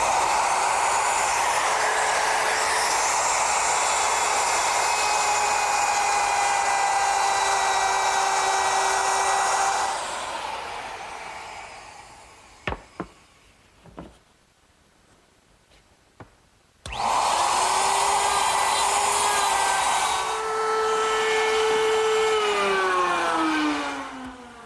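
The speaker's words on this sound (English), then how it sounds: "I've also placed a 3/4 inch dovetailing bit in the router and set the depth so that it's exactly even with the dado I've already cut." A woodworking router fitted with a 3/4 inch dovetail bit cuts a dovetail in wood for a Shaker tall chest, a loud steady high whine for about ten seconds, a quiet gap with a few clicks, then the motor spins up and cuts again.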